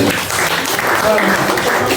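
A congregation claps for the Lord at a testimony gathering, a dense, loud burst of applause with voices mixed in, steady across the short stretch.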